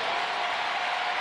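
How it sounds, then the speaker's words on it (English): Sellout crowd at a Blue Jays baseball game, a dense, steady roar of cheering throughout, broad and loud with no distinct individual voices. "the sellout crowd is putting a little pressure on the Blue Jays here"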